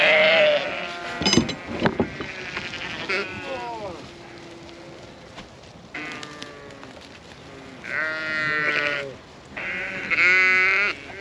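Several sheep bleat in a series of loud, close calls, some overlapping, with a person talking briefly between them on a farm.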